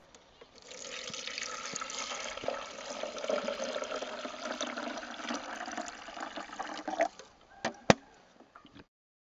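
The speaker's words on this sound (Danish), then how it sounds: "Så hælder man helt normalt postevand i," Tap water is poured into a water filter jug, a steady splashing fill of about a liter lasting several seconds, then a few clicks and knocks as the pour ends.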